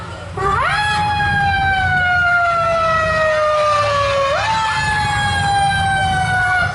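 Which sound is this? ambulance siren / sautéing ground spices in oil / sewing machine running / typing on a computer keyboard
ambulance siren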